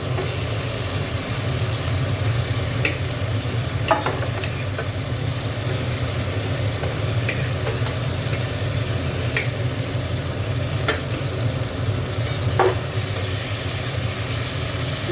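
Potatoes frying in oil in a pan for a simple egg curry, giving a steady, close sizzle with occasional soft clinks and scrapes of stirring, with no one talking.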